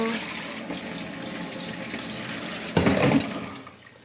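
Hot water poured into a pan of drying curry, a brief splashing burst that rises suddenly near the end and then fades out, following a stretch of quieter kitchen noise.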